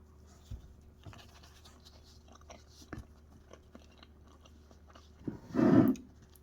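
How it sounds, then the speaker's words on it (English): Someone bites and chews green beans with flatbread in a spicy dish, quiet small crunches and mouth sounds building to one loud, close chewing burst near the end, with no talking. "My last bite."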